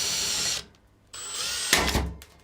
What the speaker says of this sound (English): angle up the drill. And basically, even if it still spins, it's going to chew through that rivet.